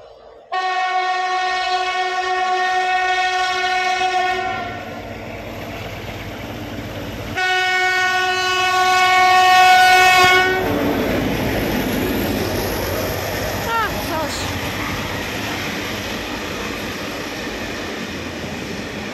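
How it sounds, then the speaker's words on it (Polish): A diesel locomotive passes a station in Cieplewo, Poland, sounding two long, loud horn blasts separated by a short gap, then rumbling and fading as it moves on. No one speaks. "Lokomotywa spalinowa."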